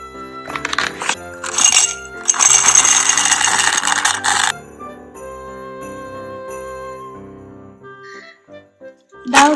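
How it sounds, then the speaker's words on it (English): Candy pours into a glass mason jar in several rattling bursts, the longest a dense clatter lasting about two seconds, with soft music playing underneath and a last short rattle at the end. "fill up your jar with the candy"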